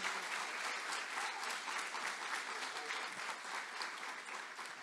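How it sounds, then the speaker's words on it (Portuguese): A church congregation applauding during a family worship service, a sustained, even wash of many hands clapping with a faint murmur underneath, heard at a moderate distance. "Aplaude a Jesús."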